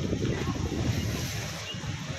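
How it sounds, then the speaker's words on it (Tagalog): A steady roar of big ocean surf with some wind noise at Patar Beach, Bolinao, Pangasinan, a continuous broad wash of sound and no voices. "Lalaki ng alon"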